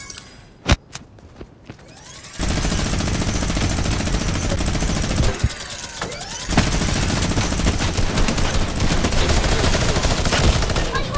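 Rapid automatic gunfire from the Fortnite battle royale game during the Travis Scott live event, opening with a few sharp separate shots, then sustained loud bursts of rattling fire with brief pauses, dense and close.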